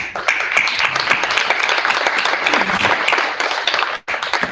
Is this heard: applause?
yes